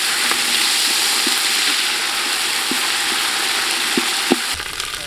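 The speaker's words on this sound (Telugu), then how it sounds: "మనకు ఉల్లిపాయ అల్లం వెల్లుల్లి పేస్ట్ మంచిగా వేగింది" Onion and ginger-garlic paste fry in a pan for a spicy village chicken curry, giving a steady bright sizzle broken by occasional soft scrapes of a stirring spoon.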